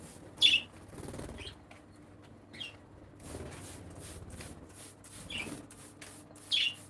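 Budgerigars in an aviary colony flutter their wings in a few brief, close bursts spaced through quiet stretches, with faint chirps in between.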